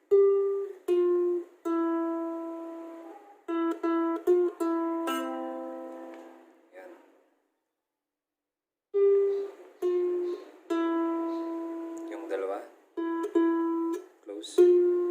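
Solo ukulele picks the lead melody of a song in clear, separate plucked notes, close and bright, stopping for a pause partway through and then resuming the phrase.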